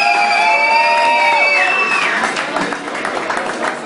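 A festival crowd at an outdoor concert in Split applauds and cheers for a rock band, with claps, whoops and shouts all around. Feedback-like tones ring over the start before the clapping takes over.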